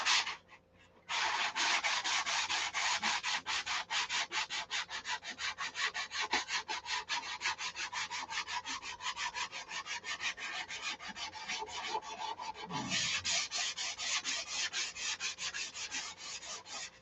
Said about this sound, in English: Quick sand out.